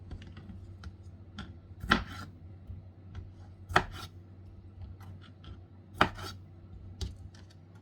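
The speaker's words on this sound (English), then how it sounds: "Next, we're gonna chop up the grapes in halves." A knife chops grapes in halves for a fruit salad, giving a few sharp, sparse clicks on a cutting board with quiet gaps between them, close and moderately loud.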